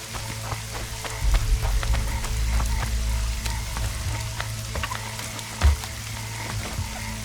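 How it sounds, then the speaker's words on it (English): Steady rain falls in the video game The Witcher 2: Assassins of Kings, a dense crackling patter with scattered sharp drops and a continuous low rumble beneath, holding even for the whole stretch with one brief louder thump near the end. "It's raining"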